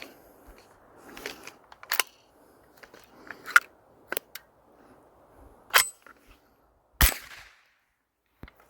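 A Bear Creek Arsenal .22lr rifle upper on a PSA lower fires a handful of sharp, isolated cracks spaced a second or more apart, with faint mechanical clicks and low murmuring between them.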